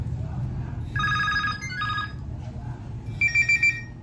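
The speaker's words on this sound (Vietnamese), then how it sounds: "bây giờ em vô thử vô chuông nghe lớn không nha" A Nokia 6822a phone plays its ringtone in two short bursts of bright tonal beeps, then a louder repeated burst, close up over low background rumble.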